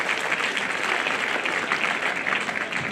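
A graduation ceremony crowd at HKBK College of Engineering in Bangalore keeps up a steady, even round of applause, moderately loud and slightly distant, with no speech over it.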